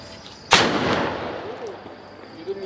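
A Diwali sky shot firework bursts low near the ground with one sharp, loud bang that trails into a crackling wash and fades out, with faint voices in the background.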